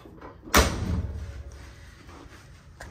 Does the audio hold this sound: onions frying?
no